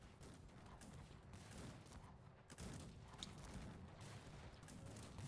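Cannon and gunfire crackle through a Cossacks 3 4v4 battle, a dense, faint clatter of overlapping shots with one sharper boom in the middle.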